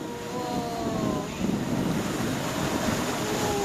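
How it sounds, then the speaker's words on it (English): Strong currents of the St. Lawrence River at the Lachine Rapids make a continuous rushing roar of churning water, mixed with gusty wind buffeting the microphone. "It is this phenomenon we see here with the strong currents from the St. Lawrence River."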